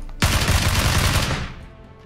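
A rapid burst of automatic gunfire crackles in PlayerUnknown's Battlegrounds, a dense string of close, loud shots lasting about a second and a half before trailing off into quiet.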